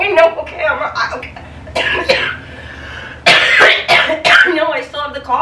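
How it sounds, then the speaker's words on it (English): A person with a lingering cough hacks several times in quick, harsh bursts in a close indoor setting, with conversational speech before and between the coughs. "No, I still have the cough."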